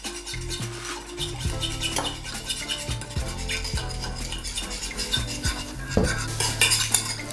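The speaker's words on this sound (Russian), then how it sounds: "И в конце перемешаем и добавляем оливковое масло." A metal spoon stirs a salad dressing of black pepper and olive oil in a bowl, clinking and scraping in irregular bursts against the dish, close and alone.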